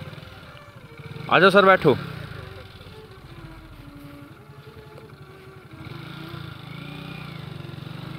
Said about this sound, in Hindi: अभी बाइक बिना चाबी से चली है